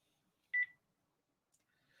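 A single short touch-tone beep sounds as a phone is dialed to call a daughter, crisp and brief in an otherwise quiet room.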